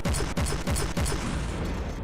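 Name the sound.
cannon firing in the video game From the Depths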